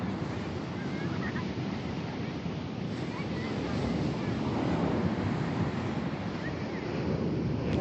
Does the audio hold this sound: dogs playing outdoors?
no